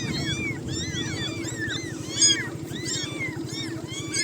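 Four stray kittens meowing repeatedly at the roadside, high thin cries overlapping in quick succession over a steady low engine-like hum.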